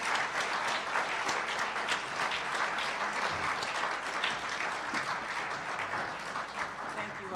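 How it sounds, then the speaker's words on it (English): An audience applauds a panel at a talk event, sustained dense clapping that fills the room evenly and without pause. "could we give them a round of applause?"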